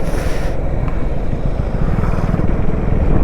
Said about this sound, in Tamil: இந்த லேனில் வண்டி வருது